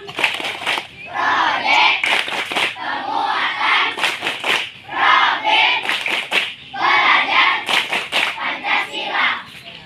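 A group of fourth-grade primary school children on a class outing claps in quick rhythmic bursts, shouting along loudly between the sets of claps.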